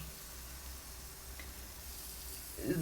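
Salmon fillet fries in a pan with no extra oil, giving a faint, steady sizzling hiss, then a louder clatter near the end as the fish is turned.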